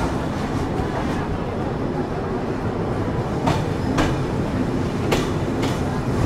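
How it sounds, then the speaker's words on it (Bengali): The Padma Express intercity train departs Dhaka Airport railway station with a loud, steady rumble of rolling carriages and several sharp clattering wheel beats over rail joints, a voice faintly present in the background. "আন্তনগর Padma express departure Dhaka airport railway station"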